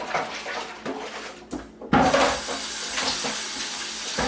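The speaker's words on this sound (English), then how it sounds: "I'm just going to wash this bowl out that I had the pork roast in." Water runs steadily from a kitchen tap as a bowl that held pork roast is washed out, a close continuous rush that swells louder partway through with faint clinks underneath.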